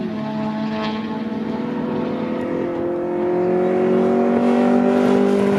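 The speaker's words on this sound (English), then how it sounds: "having an ignition rotor come loose on his distributor. That's why you hear the sputtering." 1988 Honda CRX Si with a B16A engine on a time-attack track, its engine note droning and rising as it passes, rough and sputtering from a loose distributor ignition rotor, heard steadily from a moderate distance.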